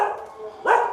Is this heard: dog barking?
yes